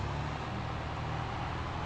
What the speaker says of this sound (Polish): I teraz możemy zjechać sobie ciągnikiem do nas.